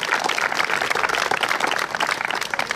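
Sustained applause from an audience at a roundabout inauguration ceremony honouring municipal and technical services, dense and steady clapping throughout with no voices standing out.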